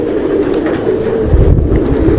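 A female silver-breed pigeon gives a soft, low cooing close by, partly buried under a loud, steady rumbling background.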